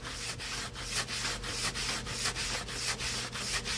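Balsa wood on a model aircraft fuselage is sanded by hand with steady back-and-forth strokes, each stroke a soft, rhythmic scratchy rasp, close and alone.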